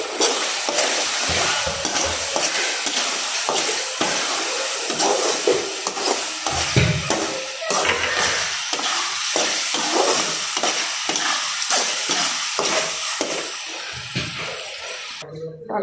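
Bread halwa being stirred in a pan with chopped nuts and raisins added, a loud, steady sizzle with repeated scraping strokes of a spoon against the pan running throughout.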